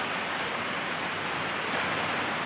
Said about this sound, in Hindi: आज तो बारिश हो रहा है